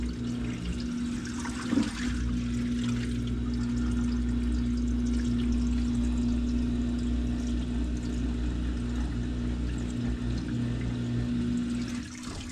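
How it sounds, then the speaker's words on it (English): A Samsung WA50R5200AW top-load washing machine drains water while its drum spins, giving a steady pump whine and low motor hum beneath a continuous splashing trickle, heard close with no talking. "Still a little bit of water coming out."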